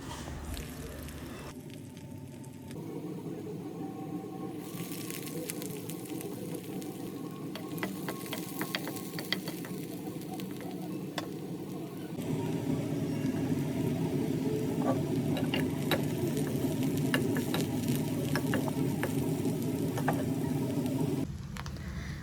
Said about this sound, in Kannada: ಒಂದು ಫ್ರೈ ಪ್ಯಾನ್ಗೆ ಸ್ವಲ್ಪ ಆಯಿಲು ಮತ್ತು ಬೆಳ್ಳುಳ್ಳಿ, ಈರುಳ್ಳಿ, ಕ್ಯಾಪ್ಸಿಕಮ್ ಹಾಕಿ ಒಂದು 5 ನಿಮಿಷ ಫ್ರೈ ಮಾಡ್ಕೊಳ್ಳಿ